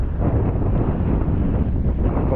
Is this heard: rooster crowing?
no